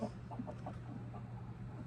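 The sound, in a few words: hen clucking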